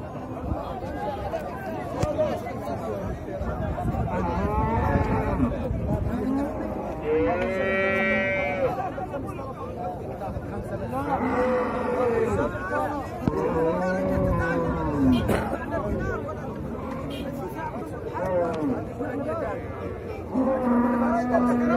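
Cattle low repeatedly in a busy Egyptian livestock market, several loud moos rising over a constant babble of traders' voices and crowd chatter.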